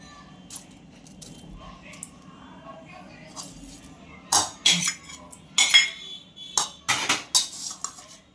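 Bhel ingredients are tossed with a spoon in a metal bowl, first quietly, then in a run of loud scraping clinks, with a voice speaking briefly.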